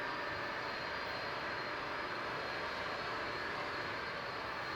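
A KLM jet airliner's engines roar at takeoff in a steady, broad, unbroken rush of noise that holds even and loud throughout, with no voices.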